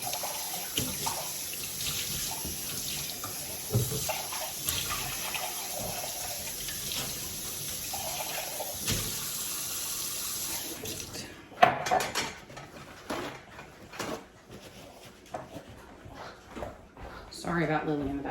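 Water from a kitchen tap runs steadily as a measuring cup is rinsed, then stops and gives way to clattering of dishes and utensils near a sink, with voices in the background.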